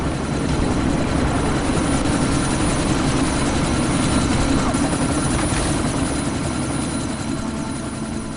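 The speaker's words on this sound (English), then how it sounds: "you need to disable that chopper" A video game helicopter thrums steadily and loudly through a sandstorm, a continuous rotor roar with wind-like noise spread across the whole stretch and no pauses.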